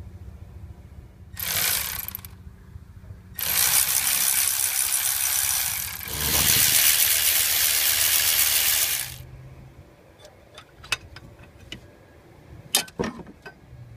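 A Milwaukee 3/8-inch drive ratchet with an extension and a half-deep socket, removing valve cover bolts on a 6.0 Powerstroke diesel: close, loud bursts of buzzing motor whir, followed by scattered light clicks and clinks of metal parts.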